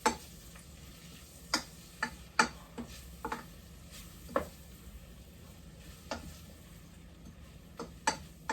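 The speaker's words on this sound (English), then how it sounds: "I'm just going to let those saute in the butter" Leeks sauté in butter in a pan, a low, quiet sizzle broken by irregular sharp ticks and pops that come every half second to second, close up and with no speech.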